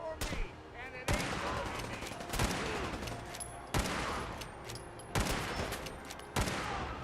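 Lever action rifle in Fallout 4 Far Harbor firing about six sharp, evenly spaced shots, each loud crack followed by a lingering rumbling tail, amid steady background game noise.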